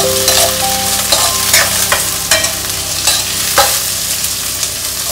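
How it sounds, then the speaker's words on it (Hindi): Chopped cabbage, capsicum and carrot stir-fried in a hot pan for veg Schezwan noodles, a loud close sizzle broken by repeated scraping clatters of the spatula, with no talk. "इसी के साथ हम ये कुछ कटी हुई वेजिटेबल्स डालेंगे, कैबेज, कैप्सिकम, कैरेट"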